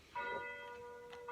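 Church bells ring with a sustained, tonal clang, fairly quiet and somewhat distant, with no talking over them.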